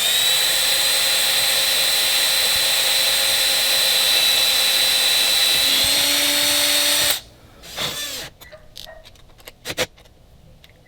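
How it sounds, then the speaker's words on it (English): A power drill whines steadily and loudly while fitting a rub rail on a Panga 22 boat, then stops abruptly, followed by a few scattered clicks and handling noises. "we'll be tightening this up and then drilling in and set"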